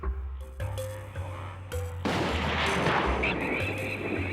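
A single heavy gunshot from a hunter, a sharp blast followed by a long rumbling tail and echo after a quieter opening.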